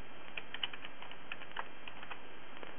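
Light, scattered key clicks from typing on a computer keyboard, a handful of soft taps spread unevenly over a few seconds, faint and close, with no voices.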